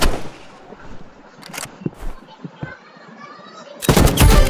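Gunfire in the Roblox game Rivals, a few sharp shots scattered over the clip and a loud burst of firing at the end, with a young voice talking in between.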